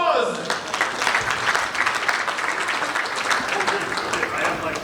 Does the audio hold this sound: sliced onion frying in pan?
no